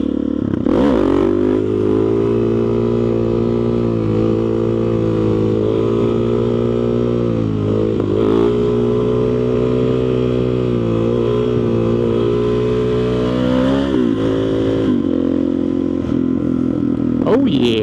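A motorcycle pulls a wheelie up close, its engine loud throughout, with throttle swells and revs rising and falling over a steady rumble.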